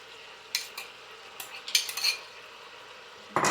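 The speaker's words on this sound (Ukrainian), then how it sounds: "Перемішуємо знову ж тепер помідори і 5 зубчиків часничку" A utensil stirs tomatoes with lamb, onion and carrot in a multicooker pot, giving a few scattered scrapes and clinks over a faint sizzle, up close and with no talk.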